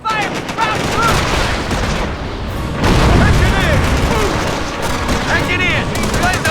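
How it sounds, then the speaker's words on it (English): Rapid machine-gun bursts and heavy booming explosions from a Company of Heroes battle, dense and loud, with crackling gunfire layered over blasts while soldiers shout beneath the noise. "Position under fire from ground troops!"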